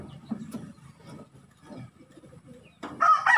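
A pigeon under treatment for a one-eye cold coos close by in soft, low, throaty pulses, followed by a brief louder flutter or call at the end.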